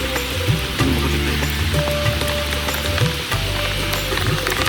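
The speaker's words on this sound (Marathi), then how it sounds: "भरपूर पाऊस आहे" Heavy rain pours down at a hillside temple near Badlapur, set in green hills. It makes a dense, loud, unbroken hiss of drops hitting surfaces, close to the listener, with faint tonal background sounds mixed in.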